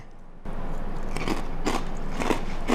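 Close, loud crunching of crispy fried skin on a German-style pork knuckle, several sharp crackling bites over a low background hum.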